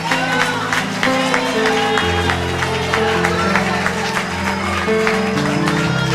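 Rhythmic applause rings through a church worship service, clapping in a steady beat over sustained music with held tones underneath, loud and close.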